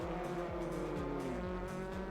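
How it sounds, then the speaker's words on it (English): A race car in the Assetto Corsa racing game pulls away, its engine droning steadily with repeated rising gear-like pitch sweeps, continuous and fairly close. "look at that car pull away"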